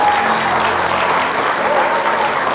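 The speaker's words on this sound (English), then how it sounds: "So these people will go mad clapping for you." A live audience at a mind-reading show claps loudly and steadily, a dense sustained round of applause.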